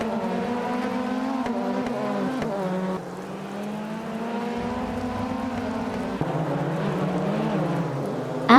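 Race car engines in a racing video game drone steadily, with several cars' tones whining and shifting pitch as they accelerate and change gear, continuous and fairly loud with no talking.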